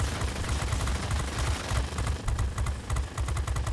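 Rapid bursts of .50 caliber machine-gun fire from a P-51A Mustang fighter in a World of Warplanes air battle, chattering continuously over a steady droning engine, loud and close throughout.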